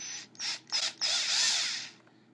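A small drill bores into a carrot to make a clarinet, giving several short whining bursts and then a longer sustained grind, close and fairly loud with no talk.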